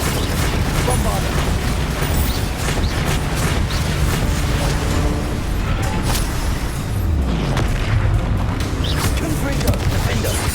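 Spell explosions from Bombarda in Hogwarts Legacy burst and boom through chaotic combat, heavy impacts and rumbles repeating, mixed with voices talking over the fighting.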